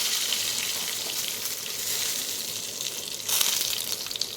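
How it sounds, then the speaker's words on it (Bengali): Bay leaves and dried chillies crackle in hot oil for khichuri, giving a steady, bright sizzle that swells into a louder burst near the end, heard close and without voices. "এবার দেখুন দিচ্ছি তেজপাতা আর কয়েকটা শুকনো লঙ্কা"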